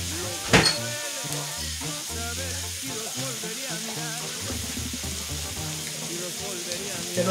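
Sizzling as a little water is poured into seasoned ground meat frying in a pan for Taco Bell-style tacos, with a sharp splash near the start, then steady crackling under a person talking and humming.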